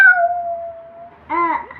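A voice imitates a cat's meow, giving one long drawn-out meow followed by a shorter, rising second meow, close and clear, with no other sound around it.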